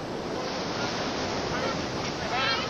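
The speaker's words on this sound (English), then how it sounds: "These people are basically going head first straight into the waves" Ocean surf pounds a beach where people push head first into the breaking waves, a loud, steady wash of rolling water and wind noise that fills the whole stretch with no pause.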